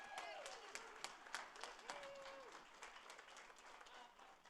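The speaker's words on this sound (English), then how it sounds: "Let's give Kim another round of applause" A round of applause for an award winner at a school district board meeting, steady clapping from a gathered audience in a room, with a voice briefly audible over it.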